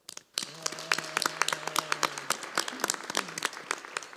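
A small group claps steadily for a few seconds, close and moderately loud, while a voice talks briefly underneath.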